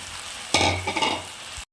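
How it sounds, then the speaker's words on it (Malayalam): Crispy fried chicken pieces dropped into a pan of sizzling dragon chicken sauce thickened with cornflour, with a sudden burst of loud frying and stirring that settles briefly before stopping. "ക്രിസ്പിയായിട്ട് വറുത്ത് വെച്ച ചിക്കൻ നമ്മൾ ഇട്ട് കൊടുക്കുന്നു."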